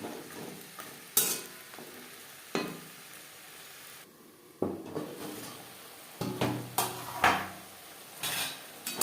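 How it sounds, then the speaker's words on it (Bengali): Green beans with spices are stirred in a hot pan, a spatula scraping and clinking against the metal in irregular bursts over a low sizzle, with quieter pauses between strokes. "মশলার সাথে শিম বেশ ভালো করে মিক্স করে দেবো"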